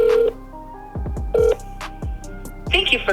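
Telephone keypad tones during a call to BMW: a short series of distinct beeps separated by low knocking sounds, heard close up and alone.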